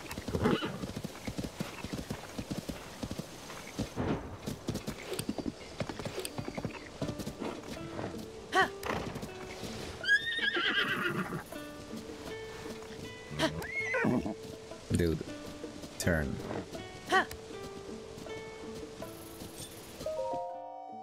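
Horse hooves clip-clop in the video game Zelda: Tears of the Kingdom, with repeated neighs and whinnies over a steady game soundscape, close and moderately loud throughout.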